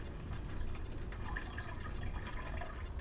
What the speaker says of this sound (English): And I'll add some more water for them.